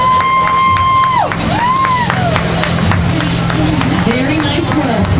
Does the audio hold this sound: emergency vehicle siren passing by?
no